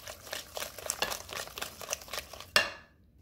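Jamaican box fruit cake batter stirred by hand in a bowl: rhythmic, close scraping and swishing strokes with soft knocks, ending in a sharper clink before fading to quiet.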